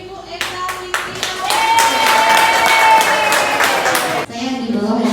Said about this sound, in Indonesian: Oke, kita sambut dengan tepuk tangan pemateri kita yaitu Ibu Eka Witria.